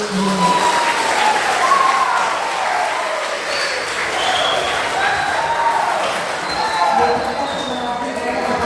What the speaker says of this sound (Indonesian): Kita kasih aplaus dulu untuk